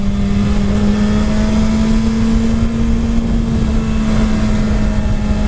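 A 2019–2020 Suzuki Hayabusa motorcycle engine hums steadily at low RPM in second gear around 50 on a highway, a loud, even drone with strong wind rush and no talking.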